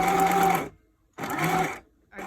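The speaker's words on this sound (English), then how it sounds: "if your sewing machine has like a tiny baby stitch setting, just use that to sew this close" A sewing machine stitches a cloth mask in two loud, close whirring runs split by a short pause, with a third run just starting at the end and no voices.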